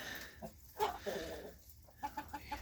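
A flock of brown hens clucking in short, close bursts, with brief pauses between the calls.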